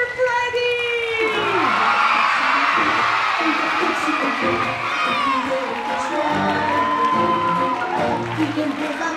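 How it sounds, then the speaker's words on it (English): A crowd of children and adults cheers, whoops and claps at a primary school interhouse music competition as a judge comes to the stage; loud, sustained shouting and applause with a voice briefly calling out amid the noise. "Can you give a big round of applause for Mr."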